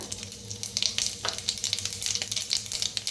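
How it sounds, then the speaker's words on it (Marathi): Mustard seeds and cumin hitting hot oil in a kadhai, crackling and popping in rapid, irregular bursts over a continuous close sizzle, with no speech. "तेल चांगलं गरम झालेलं आहे, अर्धा चमचा मोहरी टाकूया, अर्धा चमचा जिरा"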